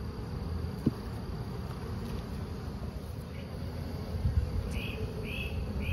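Honey bees from an open hive during a swarm cell inspection hum in a dense, steady drone close by, with a few individual buzzes passing near the ear toward the end.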